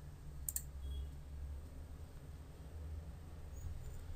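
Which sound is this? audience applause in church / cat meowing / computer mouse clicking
computer mouse clicking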